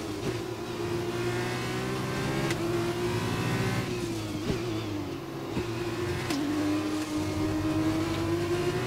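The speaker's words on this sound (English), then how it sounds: "you're not driving an F1 car, so this car is going to be slower" Engine of a racing car in the F1 2021 video game, a steady loud whine that holds and shifts in pitch as the car accelerates through corners and straights, continuous for the whole stretch with no talk.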